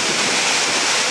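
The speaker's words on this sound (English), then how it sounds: "then the water is sprinkling from the top of the top roof of the cooling tower." Water sprinkling down from the top inside a thermal power station cooling tower, a loud, dense, steady roar of falling water like heavy rain or surf, with no break.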